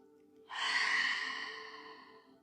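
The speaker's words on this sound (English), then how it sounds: "Breathing in and breathing out." A single long breath out during a yoga session, a soft close airy exhale starting after a short pause and slowly fading, with no speech.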